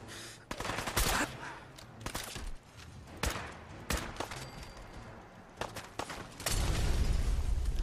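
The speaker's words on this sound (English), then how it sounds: "the gun sounds crazy" Gunfire rattles through a Fallout 4 firefight, sharp shots in bursts and single cracks, loud and close, with a heavier rumble of continuous fire at the end.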